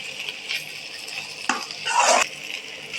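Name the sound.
garlic and cumin spice paste being stir-fried in a pan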